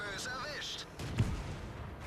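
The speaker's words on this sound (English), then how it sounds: "we got another artillery." Distant artillery fire in the World of Tanks game, a single muffled boom with low rumble around the middle, under game noise and a voice talking.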